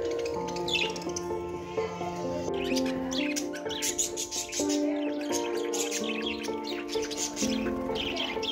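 Pet lovebirds in a cage chirp and squawk continuously in a dense, nearby flock chatter with no talking.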